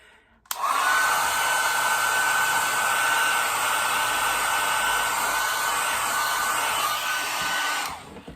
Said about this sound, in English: Now I'm just going to take my hairdryer real quick.